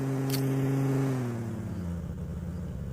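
A vehicle in PUBG Mobile drives close by, its engine tone dropping in pitch as it passes and fades, with a steady road rumble and no talking.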